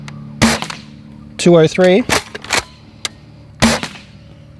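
Game Face Trion airsoft gun firing three sharp shots spaced over a few seconds, each a crisp snap, with a voice speaking between them.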